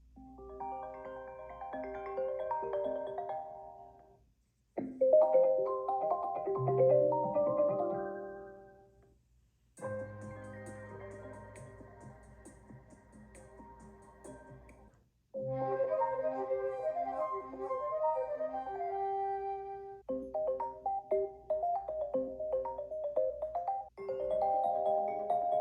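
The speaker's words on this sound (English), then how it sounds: "if you go to sounds and click reflections, you'll notice there are a bunch of new ones" Several new iPadOS 26 Reflections ringtones play one after another, each a bright, melodic chime phrase a few seconds long, separated by brief gaps, clear and fairly loud with no talking.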